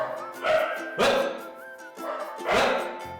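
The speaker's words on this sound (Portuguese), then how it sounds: "Deixa de zoar, cachorro!" A dog barks in several sharp bursts at a steady, repeated rhythm, loud and close, with whining yips between the barks.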